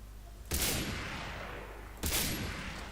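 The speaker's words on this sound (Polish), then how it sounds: "Dwa strzały ze snajperki." Two sharp, loud sniper rifle shots in the video game Far Cry 3, about a second and a half apart, each trailing into a long echoing decay.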